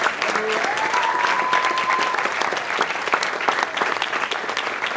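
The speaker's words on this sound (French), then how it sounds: "On peut encore l'applaudir." An audience at a European model competition claps for a contestant, dense, even applause filling the whole stretch with a brief tone and some crowd murmur beneath it.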